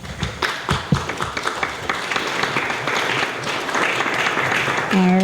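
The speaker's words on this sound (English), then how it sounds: "That applause was okay" Audience applause at a city councilor candidate forum in Lynn, with a burst of scattered claps and thumps settling into a steady wash of applause from a room crowd, with faint voices mixed in.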